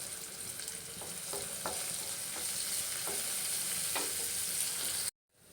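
Curry leaves and turmeric sizzle steadily in a hot pan with oil and onions for a Telugu yogurt masala curry, with a few soft stirring scrapes over the continuous frying hiss before it cuts out abruptly.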